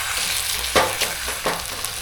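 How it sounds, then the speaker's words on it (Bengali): A paratha fries in a little oil over very low gas, giving a steady soft sizzle and hiss with two or three brief scraping touches, close and alone without speech. "দেখো পরোটাটা আমি তেলের মধ্যে দিয়ে দিলাম"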